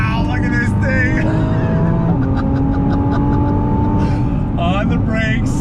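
A 2020 Nissan GTR 50th Anniversary Edition brakes and downshifts, its loud close engine note dropping and then rising again with a revving blip, while someone talks over it.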